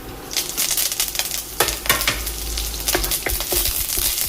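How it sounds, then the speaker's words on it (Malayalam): Curry leaves fry in hot coconut oil with green chilies and mustard seeds, a loud crackling sizzle with rapid bursts of spattering and stirring, close and continuous. "ഈ ചൂടിക്കിടന്ന് കറിവേപ്പില മൂത്ത് കിട്ടാം."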